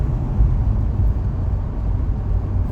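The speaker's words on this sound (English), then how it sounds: "From changing to normal to track mode, we didn't see too many differences in exhaust note." A 2019 C7 Corvette Stingray in track mode gives a deep, steady low-frequency exhaust drone heard from inside the car while driving, a constant rumble with no talk over it.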